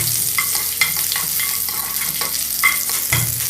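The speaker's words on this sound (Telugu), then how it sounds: "వీటిని ఒక 1 మినిట్ ఫ్రై చేసుకుందాం." Chopped ginger, garlic and green chillies fry in a pan for chilli chicken, giving a close, continuous sizzle with scraping stir strokes throughout.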